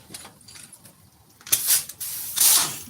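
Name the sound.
pneumatic air tool hissing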